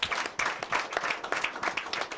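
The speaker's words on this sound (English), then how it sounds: "Make we clap for ourselves" A studio audience at a Nigerian radio family programme claps in brisk, uneven bursts, moderately close, with no talk over it.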